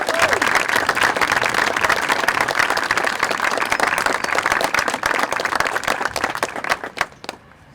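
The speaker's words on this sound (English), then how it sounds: "I'd like to have one big round of applause right now for our class of" Loud, sustained audience applause for the class of 2021 at a marching band family performance, a thick crowd of clapping that holds steady and then tapers off quickly near the end.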